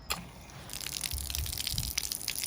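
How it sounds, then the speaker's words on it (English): A camper van's electric water pump draws water through to a small swivel tap over the sink, giving a steady gushing flow of water with a faint pump hum underneath, close by and continuous. "it draws the water from the pump here to here."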